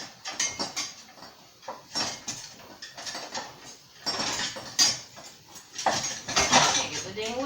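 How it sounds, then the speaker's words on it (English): A whisk is yanked from a crowded drawer of kitchen utensils, and metal clatters and jangles in repeated bursts close by. "I can't get the whisk out."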